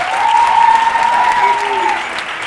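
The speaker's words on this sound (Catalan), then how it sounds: "Un aplaudiment per ell." Studio audience applause for students on a Catalan TV quiz show, brisk steady clapping from a modest crowd throughout, with a drawn-out whistle-like tone sounding over it.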